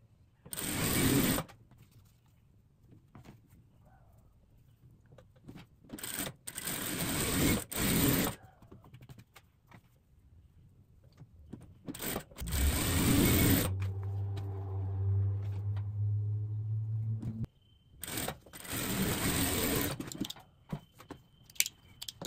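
A sewing machine runs in several short bursts and one longer steady run, stitching through a folded rug, with quiet handling pauses between the runs.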